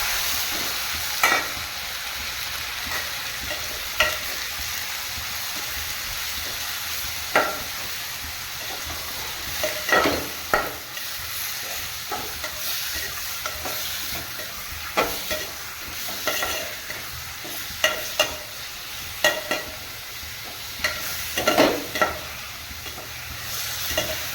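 Chicken pieces with rock salt sautéing in a pan for a pepper chicken gravy, producing a long steady sizzle punctuated by repeated spoon knocks and scrapes against the pan.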